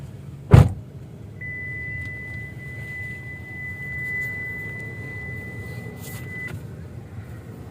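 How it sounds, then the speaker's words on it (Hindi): A car idles with the air conditioning off in a snowy place, a low steady rumble throughout, opened by a loud thump and joined by a thin electronic tone. "गाड़ी तो स्टार्ट रहने दे"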